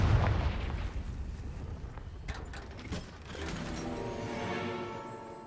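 Magical spell blasts in Hogwarts Legacy: a deep booming explosion at the start, then sharp cracks and rumbling impacts, fading into a lingering whooshing tail.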